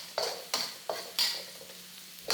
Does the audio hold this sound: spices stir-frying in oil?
yes